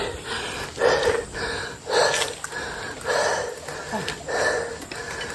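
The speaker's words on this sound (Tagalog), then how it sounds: "Hingal." A cyclist pants heavily after climbing a steep rough road, giving five or six rhythmic, breathy gasps at close range with faint background noise.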